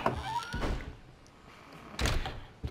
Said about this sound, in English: So you hear the door banging again